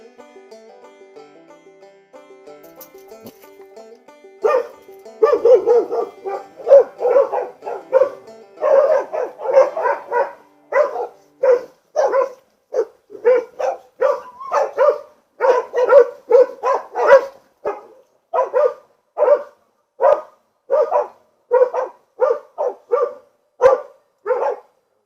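Working dogs trained to bail pigs bark repeatedly in a pen, a rapid overlapping flurry that settles into a steady rhythm of loud single barks, close and alone without talk.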